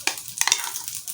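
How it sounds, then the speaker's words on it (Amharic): Batter hits a hot oiled frying pan for a quick breakfast dish, giving a short burst of bright crackling sizzle with a few sharp pops, close and fairly loud, no voices. "ወደ መጥበሻችን እንገለብጠዋለን"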